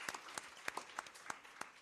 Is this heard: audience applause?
yes